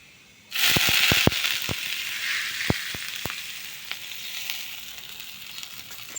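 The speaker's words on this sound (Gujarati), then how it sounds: "અને વઘાર આપી છે" Mustard seeds tempering in hot oil for a vaghar, a sudden loud sizzle bursting in with a rapid scatter of sharp pops and crackles that thin out and fade while the hiss continues.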